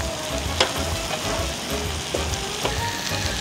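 Garlic frying over a charcoal fire while being turned, a dense, close crackling sizzle with a few faint scrapes, steady and loud for a few seconds, no talking.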